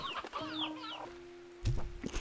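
Chickens cluck and squawk in the video game Slime Rancher 2, several short calls with a soft steady tone underneath and a louder burst of clucking near the end.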